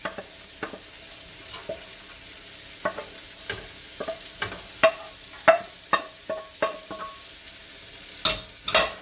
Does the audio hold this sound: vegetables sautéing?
yes